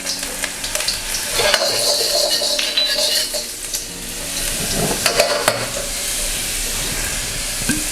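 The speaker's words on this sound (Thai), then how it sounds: "เราใส่กระเทียมไปผัดนะครับ" Garlic stir-fried in about three tablespoons of oil in a pan, with a loud continuous sizzle and repeated metal spatula scrapes and clinks against the pan, close up and with no talking.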